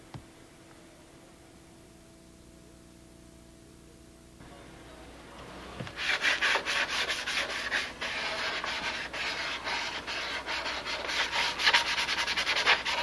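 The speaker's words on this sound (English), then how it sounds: "Just going to get a little final sanding in here tonight" Rapid, steady rasping of sandpaper rubbing back and forth over a wooden block, close and continuous after a brief quiet start.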